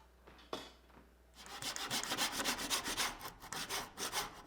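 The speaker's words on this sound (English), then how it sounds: "With all of those squares made, I'll cut some cherry pieces to fit." Cherry wood pieces are cut to fit with a brisk, rhythmic rasping saw, about a dozen close, even strokes following a couple of faint knocks.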